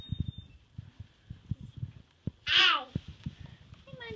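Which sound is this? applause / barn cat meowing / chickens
barn cat meowing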